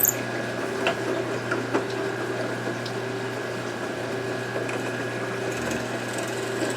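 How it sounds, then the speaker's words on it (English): A drill press bores holes through oak pieces in a workshop, giving a steady motor whine and hum that runs throughout without pause, close and moderately loud, with faint knocks now and then and no talking. "All high tech, busting out the drill press."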